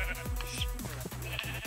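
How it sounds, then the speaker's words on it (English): Several sheep bleat in Minecraft, a run of short overlapping game-style calls close by and fairly loud, with no one speaking. "All the sheep are trying to escape!"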